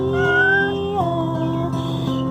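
A mother cat meows in a long, loud, drawn-out cry close to the listener, its pitch shifting partway through. No one speaks.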